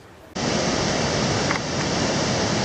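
The French Broad River rushes at Surprise Ledge, a loud, steady roar of whitewater that bursts in suddenly after a quieter opening and holds unbroken to the end.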